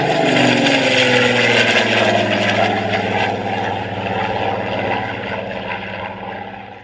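A SonikRC foam Spitfire RC model plane's electric motor whines loud and steady as it takes off, its pitch shifting a little as the plane climbs and pulls gradually away.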